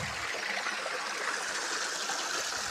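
Water pours steadily into a large well by a river, a continuous broadband rushing and trickling that stays even throughout, moderately loud with no voices.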